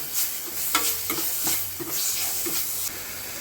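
Tomatoes sizzle and fry in a pan while a spoon scrapes and stirs them in repeated strokes, a steady close crackle with no voices.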